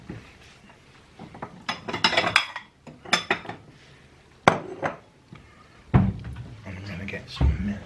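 A bowl being taken out for a KitKat cereal breakfast, with a run of close clinks and clatters of dishes and cutlery and a few sharp thunks, like a cupboard or bowl being set down, in uneven bursts.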